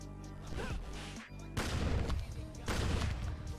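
Enemy fire in the rogue-like game Enter the Chronosphere comes as loud, booming blasts in two heavy bursts, crunchy and dense, with a brief gap between them.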